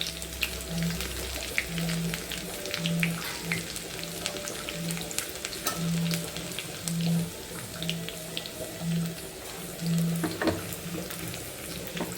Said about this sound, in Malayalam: ചെറിയ ഉള്ളി അരിഞ്ഞതും വറ്റൻമുളകും കൂടെ ചേർത്ത് കൊടുക്കാം അത് നന്നായിരുന്നു മൂത്ത് വരട്ടെ